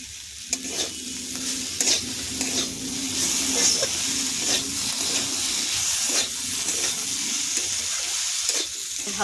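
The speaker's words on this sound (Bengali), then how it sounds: "ভালো করে নাড়িয়ে নেব, মাখিয়ে নেব।" Chopped tomato and boiled potato are stirred in a hot pan with cauliflower, giving a steady sizzle broken by repeated scraping strokes of the spoon, close and moderately loud.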